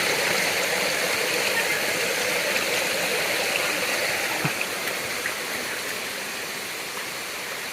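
A waterfall on Patnanungan Island pours with a steady, broad rushing roar, constant and fairly close, with no voices over it.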